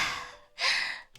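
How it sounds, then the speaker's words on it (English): Two heavy, breathy exhalations or gasps from the Doki Doki Literature Club video game, close and fairly loud, the second stronger than the first, with a short pause between them. "It sounds like breathing."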